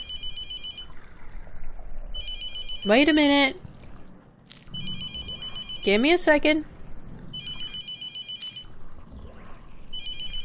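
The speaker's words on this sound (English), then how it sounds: "Oh, phone's ringing." A telephone rings in the video game The Mortuary Assistant, two loud warbling rings several seconds apart over a steady electronic tone, with someone speaking briefly between them.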